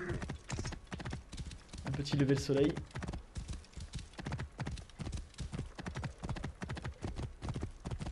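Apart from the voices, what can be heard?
horse hooves galloping in video game Assassin's Creed Origins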